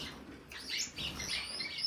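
Pet canaries and Gouldian finches chirp and tweet in a lively overlapping chorus, close by and fairly loud, with a few wing flutters mixed in.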